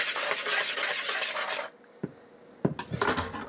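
Dry ingredients for dessert crepes, including salt, are stirred in a bowl with a utensil, giving a busy close scraping and clinking that pauses briefly, then resumes with a few sharp taps.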